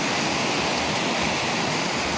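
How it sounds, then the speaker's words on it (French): Waterfall pouring over a dam on a clear, transparent river, a steady, loud broadband roar of rushing water filling the scene without a break. "La cascade. Le barrage là. Fait quand même pas mal de bruit."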